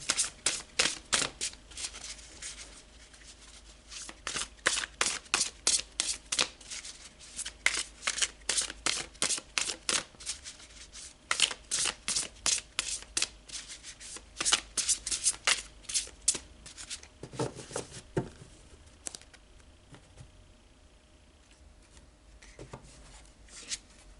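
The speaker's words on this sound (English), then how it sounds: "So let's pull some tarot and go deeper." Tarot cards are shuffled close up in repeated quick riffles and flicks, bursts of crisp card slaps separated by short pauses, fading to quieter handling near the end.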